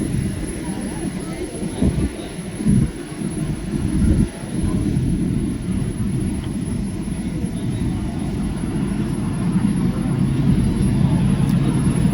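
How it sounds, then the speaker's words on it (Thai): A radio-controlled Gripen model jet takes off and flies at a small RC club airfield, its engine roaring steadily throughout while someone talks over it. "ขึ้นบินอีกแล้วนะครับกิฟเพนนะครับ"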